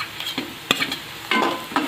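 Chopped garlic dropped into hot oil with browned onion for a dry Marathi potato bhaji, a brief close sizzle with a few sharp stirring clicks and scrapes, no voices.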